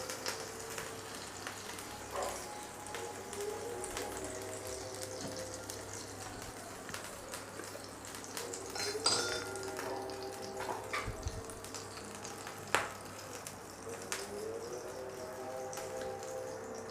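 Water sprinkled onto a hot stone griddle gives a soft, steady hiss that runs throughout at moderate loudness, with a few faint tonal sounds in the background.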